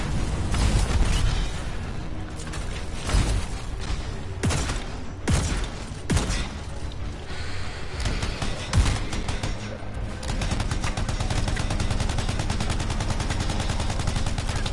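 Gunfire in the video game Anthem rattles in dense, loud bursts of rapid shots mixed with heavy booms, pausing briefly mid-way before a sustained stretch of continuous fire.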